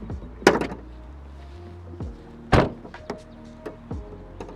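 The hood of a Ford Mustang GT Performance Pack with a 5.0 Coyote V8 is opened, giving two loud thunks and clunks of the latch and panel, with smaller rattles in between, close to the listener.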